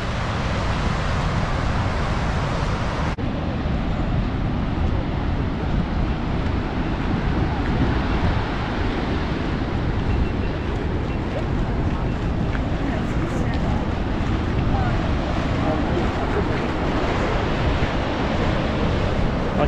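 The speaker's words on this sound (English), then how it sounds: "Actually feel the water of a waterfall from this far a distance." Gullfoss waterfall in Iceland roars in a dense, continuous wash of water noise heard from a distance, loud and unbroken throughout, with wind buffeting the microphone.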